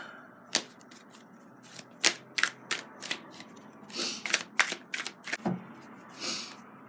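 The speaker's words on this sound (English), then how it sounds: "So I will pull, two more cards." Tarot cards are pulled and shuffled from a deck in a quiet room, making a series of close, sharp papery flicks and slaps in irregular bursts, with no talk.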